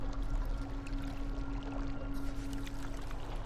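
Fishing skiff moving across water in the No Man's Sky video game, a continuous sloshing, rushing water sound with a steady low hum underneath, no talking.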